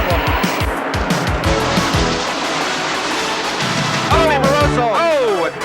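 Stock cars roar past at speed with tire squeal, then a harsh, very hard impact and skidding noise toward the end, loud and close.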